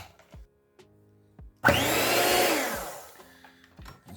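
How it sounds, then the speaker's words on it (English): A small electric hand mixer whirs into life with a sudden loud start, runs steadily for about a second and a half, then winds down. Faint clicks and knocks of kitchen handling come before and after it. "I bought this little hand mixer here for this"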